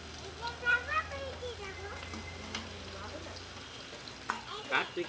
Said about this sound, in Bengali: তেল গরম হয়ে গেছে, পেঁয়াজ, ক্যাপসিকাম সব একসাথে দিয়ে দেবো।